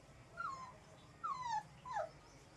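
Street dogs and puppies on a staircase let out three separate high, thin whimpering whines in quick succession, close by and fairly faint, with no talking.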